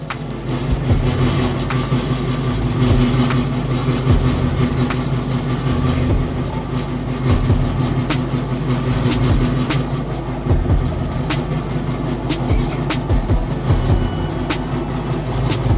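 A Kubota L4060 tractor engine idles steadily nearby, a continuous low mechanical rumble with faint ticking, heard alone without speech.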